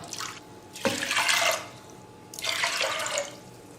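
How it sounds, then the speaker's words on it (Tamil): Water pours onto soaked urad dal in two separate splashing bursts with a short pause between them, close and fairly loud. "ஒரு கப்பு உளுத்தம் பருப்புக்கு ரெண்டு கப்பு தண்ணி சேர்த்துக்கிறேன்"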